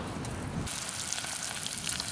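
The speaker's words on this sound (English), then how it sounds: "Absolutely sizzling away." Curry sizzles in a pan over an outdoor cooking fire, a constant crackling hiss like steady rain that holds at an even level throughout.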